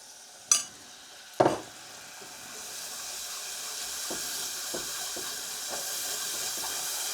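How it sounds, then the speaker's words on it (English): Vegetable stock poured gradually into a sauce in a pan while it is whisked, two sharp clinks up front, then a steady sizzling hiss with light, irregular scraping taps of the whisk against the pan. "and keep whisking it"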